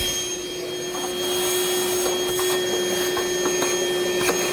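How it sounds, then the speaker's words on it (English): A vacuum cleaner runs steadily while clearing a car work area, a loud constant whine and drone with a fixed tonal hum, close by throughout. "Alright, let me get the vacuum."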